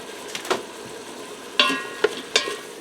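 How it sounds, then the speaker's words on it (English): Diced onion and ground beef sauté in an Instant Pot, a light sizzle under a few sharp scraping clicks from a stirring utensil spaced about a second apart. "we're going to saute the onion in there while we finish browning up that ground beef"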